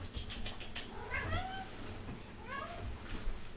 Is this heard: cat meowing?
yes